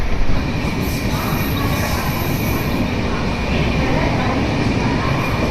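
A train rumbles along steadily, heard from inside a carriage nearing Kalyan station, a loud continuous roar of wheels and carriage noise with a faint high whine above it.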